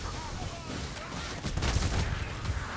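Pistol shots in a co-op shooter game, played as a Zealot on the Athel Yenlui map, crack out in a dense, rapid cluster over the second half, thickening into a near-continuous volley amid busy game noise.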